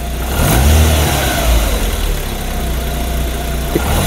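A car engine idles low, then revs up and holds a steady, loud mechanical drone before easing off, during a check for engine leaks and radiator condition.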